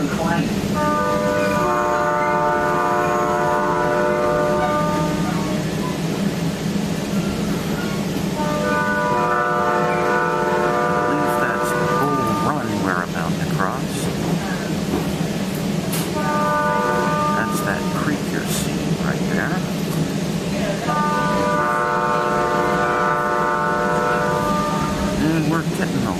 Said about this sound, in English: We're getting a lovely horn show from the cab car